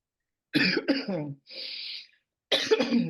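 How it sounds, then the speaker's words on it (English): Several harsh coughs from someone getting over a flu come in close bursts, separated by a breathy rasp and a short silence, then another round of coughing. "pardon my coughing, getting over a flu."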